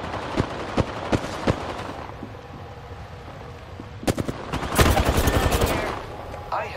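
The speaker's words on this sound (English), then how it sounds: "I am taking fire" Gunfire in a battle royale video game, with scattered single shots early, then a loud burst of rapid automatic fire and a rattling volley at the end.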